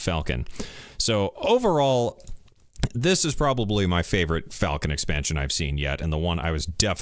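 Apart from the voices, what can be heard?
No everyday noises stand out.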